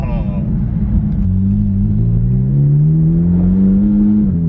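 A Ferrari F430 with a muffler delete and straight-pipe exhaust idles loud and close, a deep growling drone that rises gently in pitch as it warms up, with a voice talking over it.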